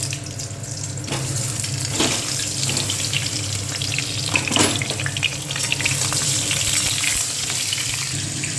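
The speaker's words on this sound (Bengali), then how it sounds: "দেখো তেল দিয়ে দিয়েছি এবার আলুগুলো একটু শুদ্ধ লাল করে ভেজে নেবো" Boiled new potatoes fry in oil with a loud, continuous close-up sizzle and crackle, with occasional faint clinks from stirring underneath.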